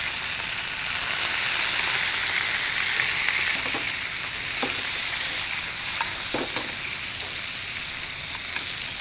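Grilled turkey sizzles loudly in a pan after wine is added, a dense continuous frying hiss with scattered pops and stirring scrapes, and no voices.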